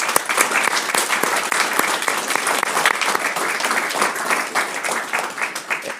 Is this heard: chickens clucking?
no